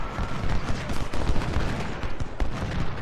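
Infantry rifle volleys crackle in the Ultimate General: Civil War game at the First Battle of Winchester, a dense, continuous fusillade of overlapping shots with a few sharper individual cracks, loud and sustained throughout, with no talk.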